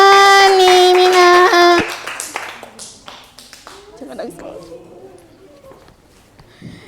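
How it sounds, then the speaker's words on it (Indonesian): Students in a classroom break into a short burst of hand clapping right after a sustained voice, and the clapping fades into continued talking. "tepuk tangan"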